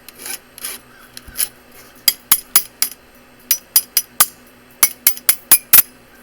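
Metal tool knocking slag off a weld on a steel trap coil, sharp scraping clinks in irregular bursts, some rapid clusters, close and loud with quiet gaps between strikes.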